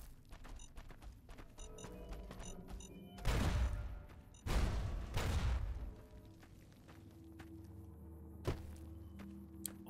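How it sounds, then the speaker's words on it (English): Explosions in the Fallout New Vegas video game, three loud booming blasts in quick succession with a fainter thump afterward, over low game background sounds. "All these explosions."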